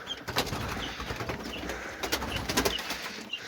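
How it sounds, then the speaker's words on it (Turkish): Turtle dove cooing inside a chicken coop, soft repeated coos mixed with rustling and light bird movement, close by and moderately quiet. "Bir tane kumrumuz var."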